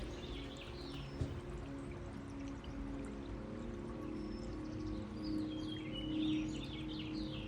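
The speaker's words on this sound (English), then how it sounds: "And all of the birds are singing." Birds sing and chirp outside a window on a windy morning, faint, scattered calls over a steady breezy background hiss.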